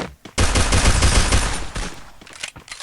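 Gunfire rattles out in the video game Free Fire, a sudden loud burst of rapid automatic shots that runs for over a second before thinning into scattered, fading reports.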